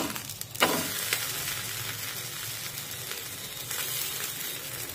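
A rice flour dhirde pancake frying in oil in a pan, giving a steady, close sizzle with faint crackles and a soft clink near the start.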